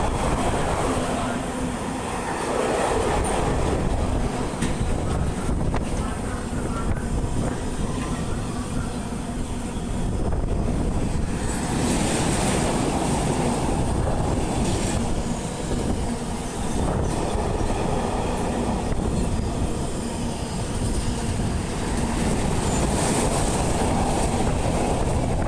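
Class 66 diesel freight locomotive and its train pass through Stafford station on the West Coast Main Line, a loud, continuous rumble with wheel clatter and rushing wind throughout, close by.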